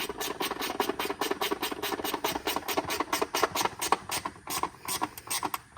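A Chevrolet LT6 flat-plane-crank engine idles with a rapid, steady pulsing thrum and a faint mechanical rattle, close and fairly loud throughout.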